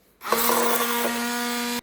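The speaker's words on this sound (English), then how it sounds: "I'm going to use a hand blender just to smooth all of this out." Hand blender whirring steadily through a tomato paste mixture, switched on abruptly and running at a constant, close buzzing pitch for over a second before cutting off, with no talk over it.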